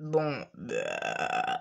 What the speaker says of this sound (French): T'as roté